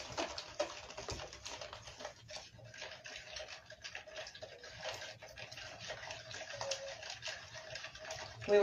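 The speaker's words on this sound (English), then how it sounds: "The next thing that we will do is pour the ash water into the jar." Ash water is poured into a jar in a steady, continuous trickling stream with small splashy surges, close and fairly quiet.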